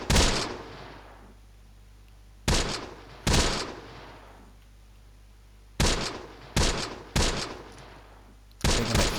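Soldiers firing weapons in the World War II strategy game Close Combat: The Bloody First, with about seven sharp bursts of gunfire, some doubled, separated by quieter gaps over a low steady hum.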